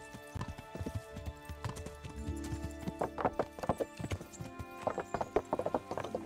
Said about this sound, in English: Big old horse.